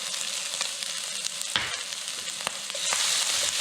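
Red pepper, garlic and Szechuan chili flakes fry in a pan for arrabbiata pasta, giving a steady close sizzle with faint stirring clicks that grows slightly louder near the end; no talking.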